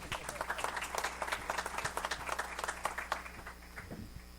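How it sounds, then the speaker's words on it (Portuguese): Audience clapping at a panel session on technology and entrepreneurship management, a moderate burst of scattered applause that carries steadily and eases slightly toward the end. "Palmas para a Karina, pessoal."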